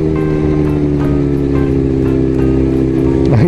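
A Kawasaki Z900RS motorcycle engine idling on a cold morning at about 4°C with the idle staying high, a loud steady droning hum that holds constant throughout and dips briefly at the end.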